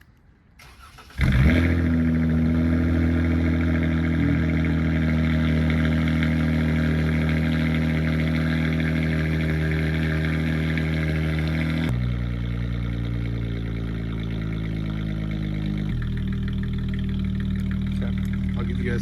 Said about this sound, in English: we're gonna do a little cold start today.